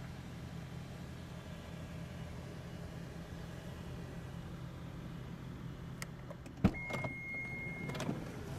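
Quiet steady hum of a 2024 Toyota Vellfire interior, then a soft electric motor whine as a power window slides down, ending with faint clicks.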